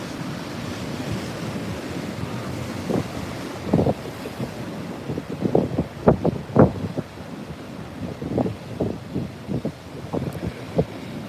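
Ocean waves break and wash at a surf spot, with irregular surging bursts of surf over a constant rumble and heavy wind buffeting the microphone.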